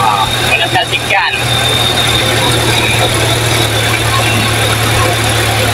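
A car engine, recently swapped to a manual transmission, idles steadily after starting, a constant low hum up close with a brief squeal early on and a short murmur from a person.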